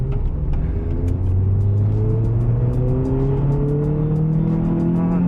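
A Toyota hot hatch engine revs hard and loud, its buzzy note climbing steadily in pitch with a constant drone and no talking.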